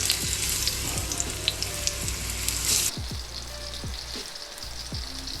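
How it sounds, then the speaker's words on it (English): Mahi fillets sizzle in hot lemongrass sauce, a loud, steady frying hiss that drops to a quieter sizzle partway through, with faint clinks and no talking. "Ooh, it's a sizzling."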